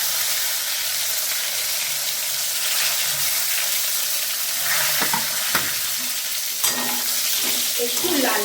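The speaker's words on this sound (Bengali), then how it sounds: "এখন এই পটলগুলোকে আমি ভাজবো।" Pointed gourd pieces fry in hot mustard oil in a pan over medium heat, giving a steady, close sizzle with occasional stirring clicks and scrapes, and no talking.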